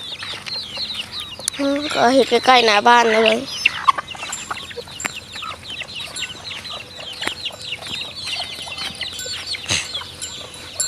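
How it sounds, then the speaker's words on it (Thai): Chickens clucking close by near a house, with a loud burst of rapid, throaty calls early on, then softer scattered clucks and chirps under a person talking. "ไก่ตัวนี้ก็ยังกินข้าวอยู่"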